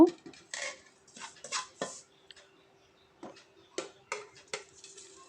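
Fried vermicelli is tipped out of a pan, giving a run of light clinks and dry scraping rattles in short bursts, separated by near-silent gaps, with a faint steady hum underneath.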